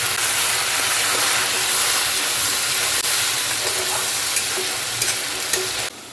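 Onion, ginger and chilli paste frying in oil with cumin seeds and bay leaf, a loud, dense, continuous sizzle close by, with a few faint clinks and a slight drop at the end.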